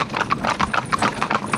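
Steady clip-clop of horses' hooves from a pair driven in tandem, a quick even rhythm of sharp hoofbeats close by, with a faint whinny possible and no speech over it.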